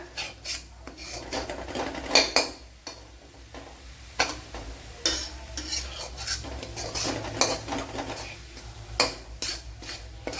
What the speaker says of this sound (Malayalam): ആ മസാലയും കൂടെ ഇട്ട് കൊടുക്കുക ഇത് നല്ലപോലെ ഒന്ന് മൂപ്പിച്ചെടുക്കണം